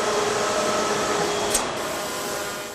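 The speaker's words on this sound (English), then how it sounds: "Binns has added a bit of technology like this cutting machine, which adds more precision to the way each piece of the shoe is cut from a leather hide" A leather cutting machine in a shoe factory hums and whirs steadily at close range, with one brief sharp click partway through.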